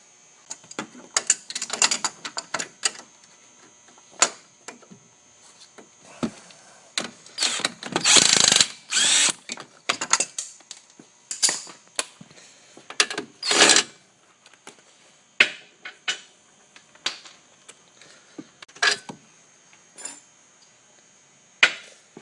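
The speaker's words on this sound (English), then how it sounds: "Then we're gonna detach the sway bar link." Hand tools and a ratchet working to detach the sway bar link on a VW strut, with irregular bursts of clicking ratchet pawls, metallic clanks and short tool taps close by.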